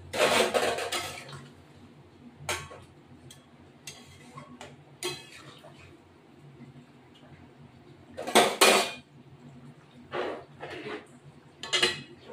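A cooking pot of rohu fish curry with fried cumin is lifted off the stove, giving a few scattered metallic clanks and scrapes of cookware against the burner, close and fairly loud with quiet gaps between.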